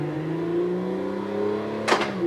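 Race car engine in a racing sim game hums steadily with a low sustained drone, rising briefly near the end with a sharp burst of noise as revs change.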